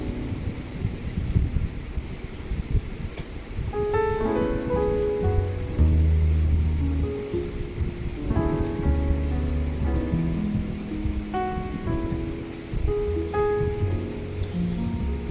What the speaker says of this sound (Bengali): আলুটাকে আমি ভালো করে ভেজে নেব